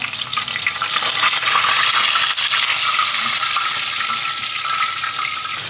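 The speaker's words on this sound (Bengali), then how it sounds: "একবারে ঘিয়ে ভেজে নিচ্ছে আম্মু।" Roasted chicken pieces fry in ghee in a home kitchen, a loud, continuous dense sizzle with occasional stirring scrapes, heard up close with no talking.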